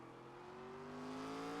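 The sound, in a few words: race car engine in iRacing SRX at Tsukuba, video game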